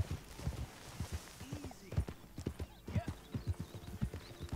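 Hooves of a newly bought horse in Red Dead Redemption 2 beat in a quick, steady clip-clop rhythm throughout, close and clear.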